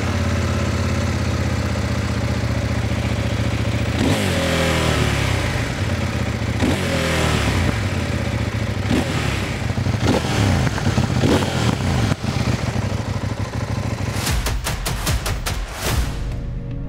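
A CFMOTO 800NK motorcycle engine runs loud and close, a steady idle broken by a series of sharp throttle revs that rise and fall, ending with a quick burst of blips.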